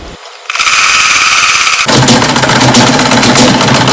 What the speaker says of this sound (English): sewing with 1 inch seam allowance and just gently going all the way until I get to the end